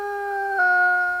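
A wolf howls on a trail camera recording, a single sustained tonal note that holds steady and then steps slightly in pitch partway through, clear and fairly loud with no other sounds.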